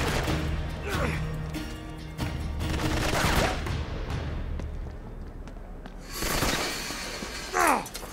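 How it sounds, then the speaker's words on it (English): Gunfire rings out across a city street in Uncharted 3: Drake's Deception, with bursts of shots and crashes layered over a busy game soundtrack at moderate loudness. "They're shooting in the city!"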